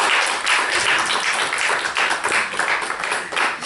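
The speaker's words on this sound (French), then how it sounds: "Je vous demande d'applaudir son Excellence Kaïdje Simons Bailey de Fonseca." Sustained applause from an audience honouring a distinguished guest, dense steady clapping that fills the whole stretch at close range with no talk over it.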